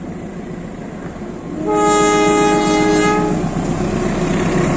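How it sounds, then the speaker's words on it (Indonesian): A Kuto Jaya Selatan passenger train crosses the Dutch-era Cirahong bridge, its horn blaring a loud sustained blast for about a second and a half over the steady, close rumble and clatter of the cars, with no talking. "Nah, kereta api ini sudah meluncur di atas Jembatan Cirahong."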